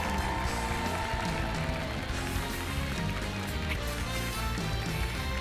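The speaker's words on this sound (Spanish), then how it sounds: "¡El aplauso para Oscar!" A studio audience at The Voice Chile applauds and cheers for Oscar after a battle-round duel, a dense steady roar of clapping throughout with no break.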